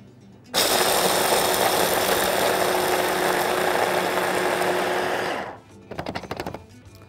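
A food processor grinds pine nuts for a paprika sauce, a loud steady motor whir running for about five seconds before winding down, followed by a few short rattling pulses.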